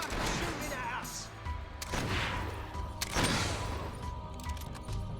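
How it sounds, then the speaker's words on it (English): Gunfire rings out in the Fable III video game, several sharp loud cracks and booms spread across a few seconds amid battle noise, with voices talking between the shots. "Someone's shooting at us"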